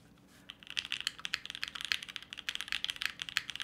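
Someone types steadily on a newly built W1-AT mechanical keyboard, giving a quick, crisp run of clacky keystrokes close up, with no voices over it.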